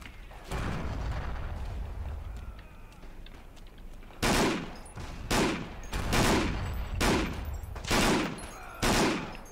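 Rapid bursts of gunfire from the World War II shooter game Forgotten Hope 2, fired without a bipod, arrive as several loud separate volleys in the second half after a stretch of quieter background noise.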